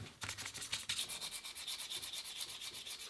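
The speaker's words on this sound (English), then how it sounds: "Nothing better than sanding." Sticky-back sandpaper is rubbed by hand along a see-through knife handle, producing quick, rhythmic back-and-forth rasping strokes, close and steady, with no talking.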